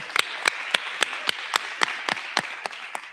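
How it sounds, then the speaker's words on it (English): Sparse, evenly spaced hand claps, about a dozen sharp slaps in steady rhythm, from a small audience thanking President Scott after the CSU president's address; fairly close, with no talk over them. "Can we get a quick one more round of applause for her?"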